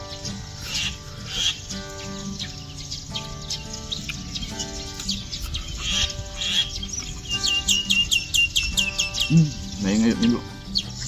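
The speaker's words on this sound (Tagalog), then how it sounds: "Nakanta pa yung mga ibon." Birds chirp and trill repeatedly nearby amid a busy outdoor background, with a voice and other noises mixed in toward the end.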